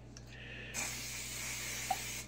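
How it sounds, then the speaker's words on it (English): Cooking spray hisses from an aerosol can onto the grids of a home waffle maker, a short puff then a longer steady spray, close and fairly faint over a low hum. "Let's spray some cooking spray."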